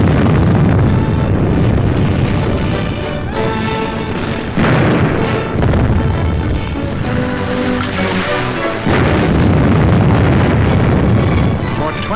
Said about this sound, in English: The huge guns subjected the city to a bombardment of incredible fury